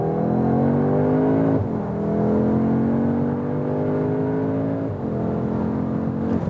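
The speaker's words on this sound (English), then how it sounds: "when we accelerate out of the corner here now" A 2021 Audi S3 Sportback accelerating out of a corner, its engine note rising steadily through two gear changes, heard from inside the car as a loud, smooth climbing drone.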